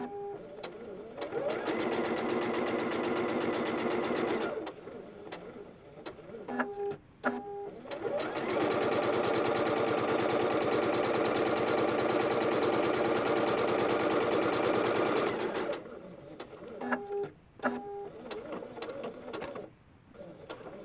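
A sewing machine runs in two long, steady bursts while stitching a quarter-inch seam for a seam-allowance test, with brief mechanical clicks and pauses between runs.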